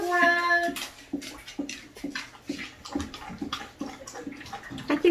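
Water pours and splashes into a dog's water bowl up close, a steady gurgling stream with brief interruptions and faint background noises.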